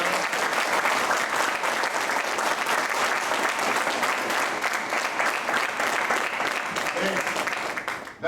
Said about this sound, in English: Give each one of you a big round of applause.